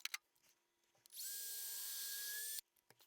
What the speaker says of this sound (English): Now I can drill my hole.